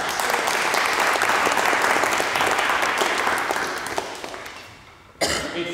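A student audience at a maths variety show claps steadily to welcome a performer, then the applause thins and fades before a brief cough and rustle.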